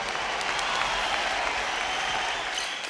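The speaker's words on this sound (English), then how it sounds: "Let's give ourselves a round of applause" Audience of children and families applauding at a live kids' musical stage show, a steady wash of clapping held throughout with a few faint cheers rising near the end.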